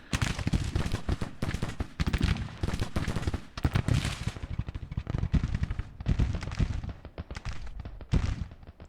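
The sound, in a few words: musket gunfire in video game Grand Tactician: The Civil War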